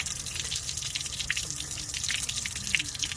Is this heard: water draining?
yes